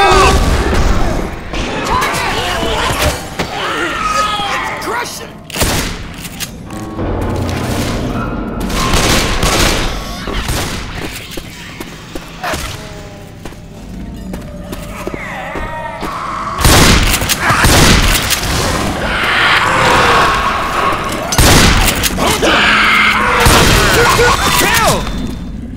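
Assault rifle fire from the video game Left 4 Dead rattles in loud, repeated bursts amid booming explosions and crashes inside a sewer, with game voices calling out over the chaos throughout.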